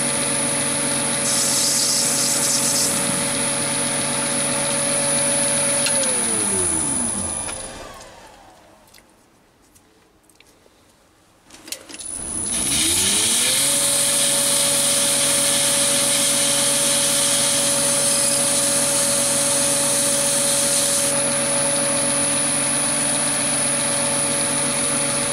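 Chinese mini lathe motor whirring steadily as it cuts a decorative groove in a thumb screw, spinning down to near silence midway, then ramping back up and running on alone.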